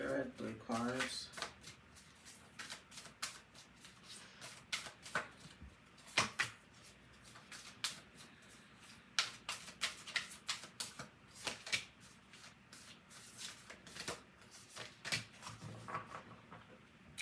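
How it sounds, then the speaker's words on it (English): A deck of oracle cards being shuffled by hand during a tarot-style reading, a long run of crisp riffling snaps and soft slides in an irregular rhythm, close and fairly quiet. "now we're going to go ahead and we're going to pull out 3 oracle cards"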